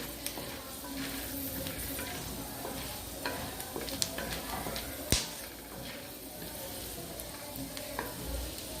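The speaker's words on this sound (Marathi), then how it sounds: "शेंगदाणे फुटायला लागलेत म्हणजे छान मसाले भाजले गेले ते तेलामध्ये" Peanuts and masala roast in hot oil for a spicy drumstick vegetable curry, a busy crackling sizzle with scattered sharp pops and stirring scrapes, one louder crack standing out midway, no talking.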